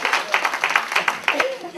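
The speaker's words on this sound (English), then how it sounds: "Let's give him a round of applause." Brief clapping comes from an audience at an evening NAACP meeting as a presenter is called forward. Uneven bursts of claps rise and fall over about two seconds, mixed with voices.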